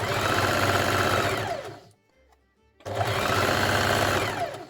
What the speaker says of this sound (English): back at the sewing machine, we take one side of the waistcoat, take the jetting, line it up